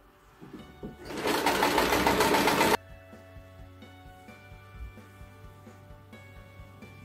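A sewing machine stitches pockets onto fabric cut from duvet covers, a loud fast whirring burst lasting about two seconds, then a quieter hum with faint rhythmic clicks.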